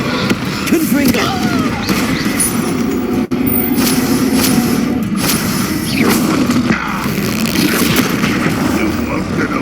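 Confringo, the fiery explosive spell in the video game Hogwarts Legacy, cast amid a dense spell-combat din: booming blasts and bursts layered over continuous loud rumble, with a short gap near the middle.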